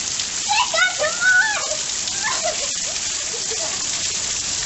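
Steady rain pours down outdoors as a constant hiss of drops on the ground, while excited voices and bird-like calls ring out over it.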